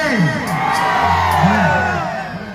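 A large crowd at an annual public Kali Puja festival shouts, whoops and cheers continuously, loud and close, with rising and falling yells layered over a dense roar.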